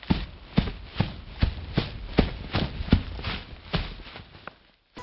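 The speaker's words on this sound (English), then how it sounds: "Foxy's sound cue has 10 footsteps." Foxy's footsteps in Five Nights at Freddy's land as about ten evenly spaced, muffled thuds, each with a scuffing tail, then stop.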